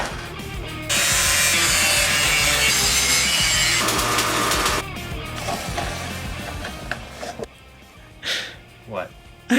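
Metal being cut for a homemade wrench to service the front main seal on a '97 7.3 OBS Powerstroke, a loud steady rasping saw stroke for several seconds, then fading into scrapes while people talk.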